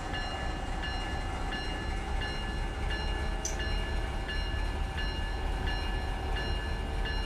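A train locomotive in the Run 8 Train Simulator III game rolls forward with a steady engine drone and rhythmic clicking from the track, and a brief high tone sounds midway.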